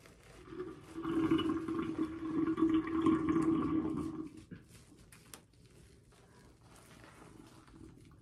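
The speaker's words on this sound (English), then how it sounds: "I'm going to drain the sink." Soapy water drains from a sink in a loud, gurgling rush for about three seconds, then fades to a faint trickle and quiet room tone.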